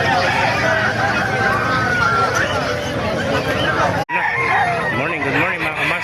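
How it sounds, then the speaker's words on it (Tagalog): Chickens and roosters crow and cluck at the Bocaue tyangge animal market, close and busy, mixed into crowd babble with someone talking loudly over them. "Maraming manok kayo dito sa Bukawi."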